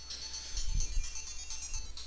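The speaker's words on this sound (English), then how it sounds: "the phone is ringing" A phone ringing in a room, repeating electronic ring tones at moderate volume with a faint low rumble underneath and no talking.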